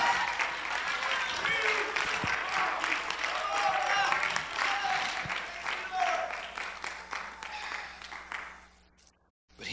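Church congregation clapping hands during a sermon, a dense sustained wash of applause running nearly ten seconds before cutting off abruptly, with voices mixed in.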